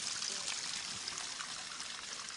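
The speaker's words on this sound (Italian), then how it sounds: "Ecco, c'è un'altra cascata là dietro." A small waterfall on a woodland stream, a steady faint hiss of falling and splashing water with no break.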